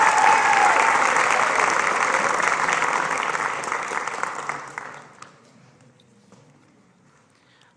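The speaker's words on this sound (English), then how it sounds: "Let's give them one more round of applause" A graduation-ceremony audience applauds students in a sustained, loud, dense round that holds for about five seconds, then fades quickly to a quiet room with a few scattered claps.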